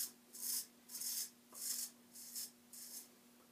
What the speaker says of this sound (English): that noise of the super sharp blade removing that hair